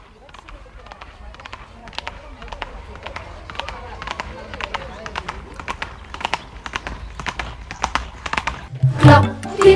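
Children at a school Christmas concert imitate a horse's hooves with a steady run of sharp clip-clop clicks, evenly spaced and close, ending in a louder burst of voices and noise.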